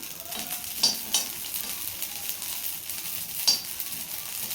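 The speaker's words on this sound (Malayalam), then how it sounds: "അരി ഒരുവിധം പൊട്ടിക്കൊണ്ടിരിക്കുകയാണ്" Rice dry-roasting in a pan, with a faint, steady crackle, a few sharp pops, and light scraping of stirring throughout.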